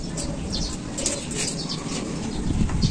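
Pigeons coo and flap their wings nearby, a continuous soft rustle with low murmuring coos throughout and occasional brief chirps.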